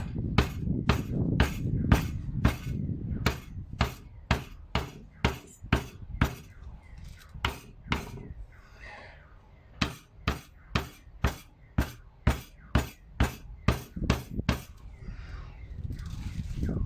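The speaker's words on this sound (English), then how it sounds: "I'm just gonna put some hammer it a little bit." Steady, evenly spaced hammer strikes ring out sharply, fastening paintbrush bristles, about two per second, pausing briefly midway before resuming at the same pace.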